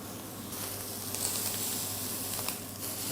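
Scallops sear in a hot frying pan for a snacked Saint-Jacques dish, giving a steady, close, even sizzle that holds throughout with no talk.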